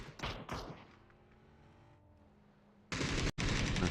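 Gunfire in a competitive esports shooter game match comes as two short bursts of rapid shots, a quiet gap, then a louder, denser burst near the end.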